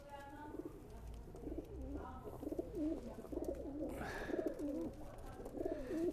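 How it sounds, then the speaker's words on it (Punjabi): Crossbred pigeons coo repeatedly in soft, rolling phrases, some calls overlapping, close by in a loft with steady low background noise. "ਇਹ ਕਰਾਸ ਕਬੂਤਰ ਆ ਜੀ, ਤੇ ਬਹੁਤ ਲਾਜਵਾਬ ਆ ਜੀ।"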